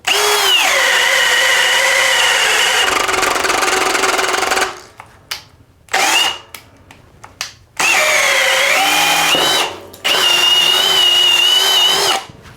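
A Milwaukee 2804-20 half-inch hammer drill/driver on speed 2 bores through wood with a 1-inch auger bit, in loud whining runs that shift pitch under load, broken by short pauses and bit knocks.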